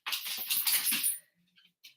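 A dog named Dame Judi Dench gives a high, whiny vocalization for about a second, followed by quiet small sounds and a brief squeak.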